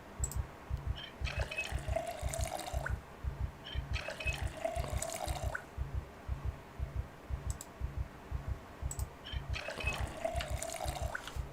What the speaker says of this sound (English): Filling up 2 and a bit water bottles probably means the water's still good to go.